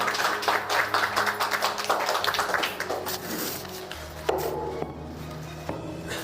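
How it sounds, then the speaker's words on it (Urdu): Applause from an audience at Karachi's City Press Club on International Women's Day, brisk uneven clapping that thins out midway, leaving scattered claps and a low background hum. "زوردار تالیاں بجائیے گا"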